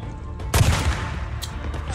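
A single loud rifle shot in the Days Gone video game, fired at long range, with a sharp crack and a lingering reverberant tail over low background rumble.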